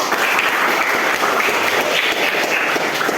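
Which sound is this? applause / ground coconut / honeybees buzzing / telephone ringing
applause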